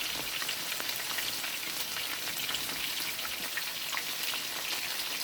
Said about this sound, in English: It's about a ½ inch of olive oil that I put in the pan as well.